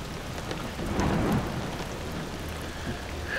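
Steady heavy rain pours down in a forest at night, a dense continuous hiss with a low rumble of thunder swelling briefly, and no voices.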